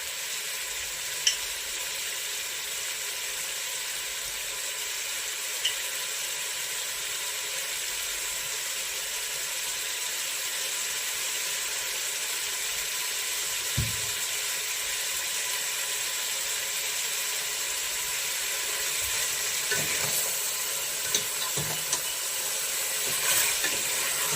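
Chicken biryani masala sizzling and frying in a pan while being stirred, a steady broadband hiss with occasional faint scrapes, no talking.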